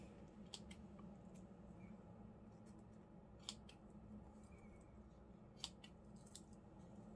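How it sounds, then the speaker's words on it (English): Scissors snip through wire while trimming a beaded pencil dangle, a few sharp, quiet clicks spaced apart over a low steady background hum, with no talking. "let's just get my scissors and give it a trim."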